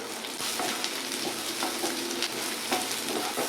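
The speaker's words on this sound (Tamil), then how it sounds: "கோல்டன் ப்ரௌனாக வர வரைக்கும் நல்லா வதக்கி விடலாம்." Red chillies, garlic and onions fry in hot oil until golden brown, giving a steady close sizzle with soft stirring scrapes throughout and no talking.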